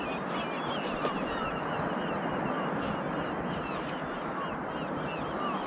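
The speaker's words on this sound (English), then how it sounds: "Just the birds and the waves" Seabirds call over steady waves washing at sea off Catterline on the North East Scotland coast, a broad wash of water and breeze with scattered bird cries drifting through it at moderate distance.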